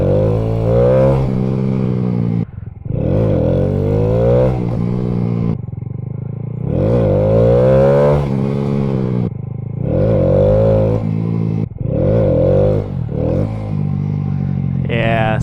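A motorbike engine revving repeatedly while wheelies are practiced, with rising and falling throttle bursts separated by short drops as the throttle is chopped, loud and close with wind noise.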